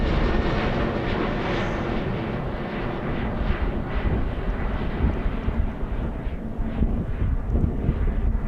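A jet airliner takes off at Amsterdam Airport, a loud, steady broadband engine roar with wind buffeting that lasts throughout, rising slightly toward the end.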